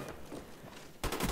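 An AK-74U with extended magazines and a grip fires in a free-for-all video game match. A sudden, loud, rapid burst of automatic fire breaks in after a second of low background noise.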